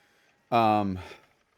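A horse whinnies near the stables as a sound effect in a tabletop fantasy role-playing game, one loud harmonic neigh of about half a second that trails into a quieter snort, standing alone.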